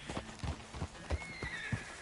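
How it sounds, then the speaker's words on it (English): A horse in the video game Red Dead Redemption 2 clops along with a steady series of close hoof thuds, while a high whinny rises over the footfalls partway through. "that's a nice-looking horse you have there"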